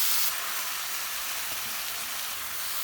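Eggplant, pepper, onion, garlic and parsley for an Armenian vegetarian appetizer go back into a hot pan, giving a steady, close, even sizzle and frying hiss with no voices.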